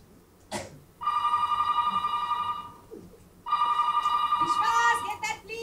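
An old landline telephone rings in a theatre stage scene, two long trilling bursts with a pause between them, loud and close, following a brief sound at the start.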